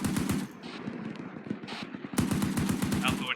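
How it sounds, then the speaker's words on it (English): Rapid machine-gun bursts in a military video game mission, with repeated close shots and a short pause, while a voice talks over the firing. "All right, I'm going to dump some rounds out there."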